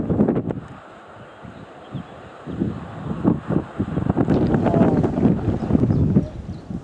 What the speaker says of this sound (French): Encore pas mal de vent.